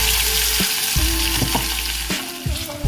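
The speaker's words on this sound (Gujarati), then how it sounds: "ગ્રેવીને થોડીક વાર સાંતળો ધીમા તાપે." Onion-spice gravy for dhaba-style dal fry sautés over low heat in a pan, with a loud, continuous sizzle broken by a few scraping stirs.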